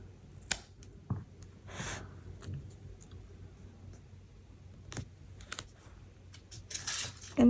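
A strip of poinsettia washi tape peels off its roll in a short dry rasp, set among scattered light clicks and taps from a quiet desk, with another brief tearing rasp near the end.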